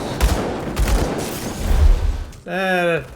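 Gunfire from a character's guns in the action RPG Grim Dawn, a short rapid burst near the end following scattered combat impacts and game effects, loud and close.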